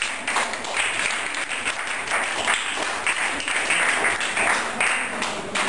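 An audience at a school culture quiz contest claps after a correct answer, dense continuous applause from many hands, loud and close, lasting throughout.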